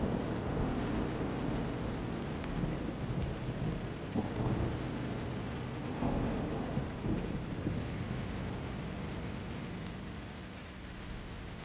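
Heavy rain pours steadily on an open terrace while low thunder rolls in the distance, a dense continuous hiss with deeper rumbles swelling now and then, no voices.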